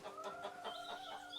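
Several hens, among them red, yellow and orange birds, cluck in short repeated bursts over a steady background hum, sounding close and continuous.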